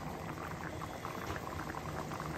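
Bat and balls soup boiling in a pot after a typhoon, a dense, steady bubbling and gurgling that stays close and even throughout, with no voices.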